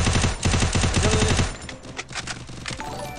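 Rapid bursts of automatic gunfire from the battle royale game Free Fire, a dense rattling volley for the first second and a half, then scattered loud single shots and clatter.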